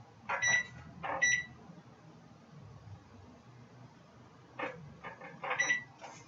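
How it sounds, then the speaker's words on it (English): A kitchen timer is set for bread baking, giving two short bursts of electronic beeps and button clicks, then a quiet pause, then several more beeps and presses, close and fairly soft. "Set our timer for 15 minutes."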